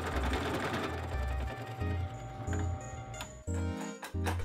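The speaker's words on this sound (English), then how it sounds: "Then the idea was to carve out the inner section, so just eating that away with a Forstner bit." A Forstner bit, likely in a drill press, carves out the inner section of PVC, giving a rhythmic mechanical whirring and chattering that starts and stops in short bursts, close and fairly loud.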